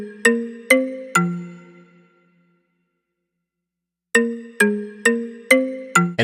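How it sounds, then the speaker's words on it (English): Layered marimba presets on a Roland JD-850 synthesizer play bright, decaying mallet notes: three spaced hits, a pause of about two seconds, then a quicker run of five or six notes, clean and alone. "I also used another JD850 marimba, just a different preset this time, and I used that to layer the first one."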